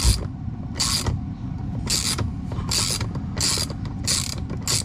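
Plastic housing of a tablet screen being pried open with an opening tool, giving a steady close mechanical creaking and clicking, with several short bright snaps as clips release at regular intervals.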